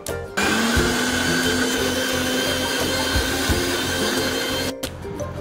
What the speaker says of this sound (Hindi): हे सर्व आपल्याला मिक्सर मध्ये बारीक करून घ्यायचं आहे।